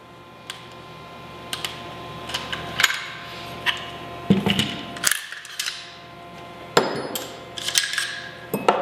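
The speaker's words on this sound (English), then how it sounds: "We're going to start by disassembling the rifle." A Stag Model 8 rifle being taken apart with tools, heard as close, sparse metallic clicks, taps and knocks with short scraping handling sounds in between, fairly quiet with pauses.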